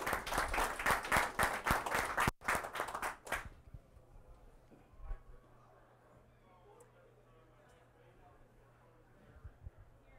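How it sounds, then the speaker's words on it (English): An audience at a conference talk applauds in a short, lively burst of many hands clapping that stops abruptly after a few seconds, followed by a quiet room with faint low hum and small background noises. "Give him a big round of applause."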